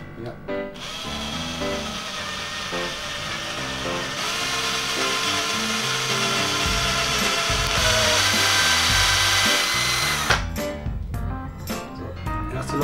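A power drill bores a hole into a homemade wooden jerkbait fishing lure, a loud steady whir for about ten seconds with a brief start and stop at the ends.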